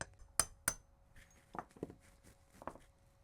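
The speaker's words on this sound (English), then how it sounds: "And with a hammer." A hammer strikes a 17mm deep socket twice, two sharp metallic taps ringing out close by while fitting an Acura RL valve cover gasket, followed by a few softer knocks in a quiet room.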